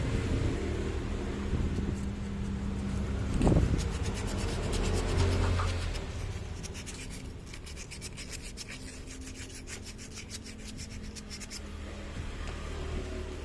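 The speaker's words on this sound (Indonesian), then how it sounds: "kita sudah siapkan amplas karena nih nggak bisa keluar nih" Rough rubbing and rasping strokes of sandpaper on the parts of a Cosmos electric fan that won't spin, close by, with a faster scratchy rhythm building in the second half.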